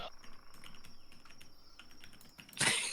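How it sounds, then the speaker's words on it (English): Rapid clicking keystrokes from a loud computer keyboard patter steadily over a faint high whine, ending in a louder burst of noise. "It's the loud keyboard."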